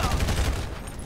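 Gunfire in GTA 5, a rapid burst of close, loud shots filling the whole short moment with no talk.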